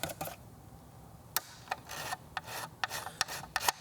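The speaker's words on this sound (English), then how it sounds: "And then I can smooth that out with my file a little bit." Hand file rasping on a plastic toy part, a Spirit Halloween ghost trap, in short uneven strokes close up in a quiet room.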